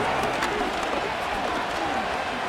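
A steady, loud stadium crowd roar swells in a simulated Commanders vs. Raiders football video game. It sits under a play-by-play commentator's voice.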